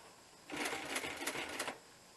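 A servo-motor sewing machine, geared down for leatherwork on a bushcraft vest, makes one short burst of rapid stitching lasting just over a second, close and clear against a quiet room.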